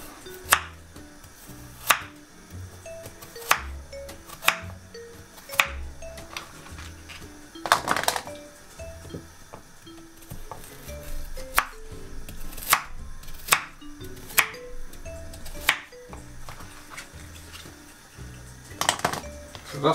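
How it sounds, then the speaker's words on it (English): A knife chops carrots into inch-long chunks on a cutting board, landing sharp, irregular thuds every second or two against a quiet background. "We've got our carrots, what we're going to cut in about an inch."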